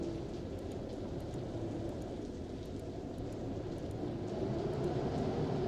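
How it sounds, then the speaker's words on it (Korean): Heavy rain and wind in the horror game Devotion, a dense steady roar of rainfall with a low rumbling undertone, fairly even in loudness throughout and no voices. "비바람이 거센 걸 보니 태풍이 온 모양이다."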